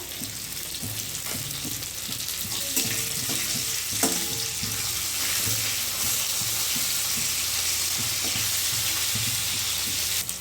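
Black cumin and slit green chilies sizzle in hot oil, a steady loud hiss with small crackles and occasional stirring knocks throughout.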